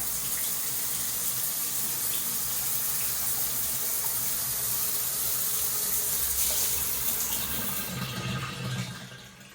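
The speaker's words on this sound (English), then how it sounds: "Beautiful rain shower." Steady water streams from a rain shower head in a tiny-home bathroom, a continuous broadband hiss that holds level for several seconds before tapering off near the end, with no voices.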